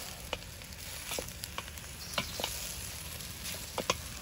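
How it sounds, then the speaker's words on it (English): Smoked brisket and onions frying in a pot, a soft continuous sizzle broken by occasional scrapes and clacks of a spoon stirring, fairly quiet and close with no talking. "Now that the onions have cooked a bit, let's go ahead and add our brisket."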